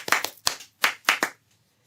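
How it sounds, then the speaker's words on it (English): Five sharp, close hand claps in an uneven rhythm, two quick pairs and a single, then silence. "clap your hands"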